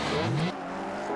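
Drifting race car pushed sideways toward a wall, a loud engine roar with a rising rev and tire hiss in the opening half-second, then dropping to a lower steady rumble.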